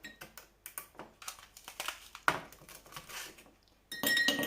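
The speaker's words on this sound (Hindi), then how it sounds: "ये मेरे पास बड़े बड़े गिलास हैं, इनमें मैं डालूँगी बर्फ़" Ice cubes drop into tall glasses for a banana ice cream milkshake: a run of sharp, close clinks and knocks, ending in a louder, denser clatter.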